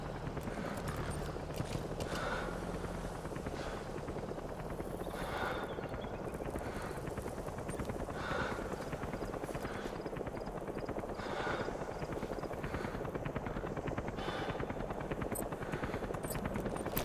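A helicopter flies in to a landing zone in the video game Metal Gear Solid V, its rotor chopping steadily and loudly through the whole stretch with no break.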